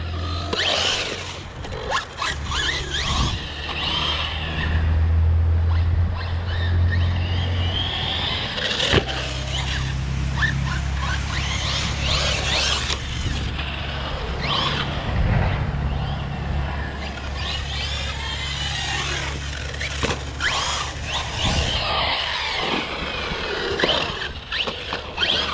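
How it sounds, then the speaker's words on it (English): Radio-controlled car with a gear damaged by sparks, its motor whining and squealing up close for a long run, with sharp clicks and knocks breaking in now and then as the gear catches. "you can hear the gear that got nailed by the sparks. Every once in a while, it hits on it."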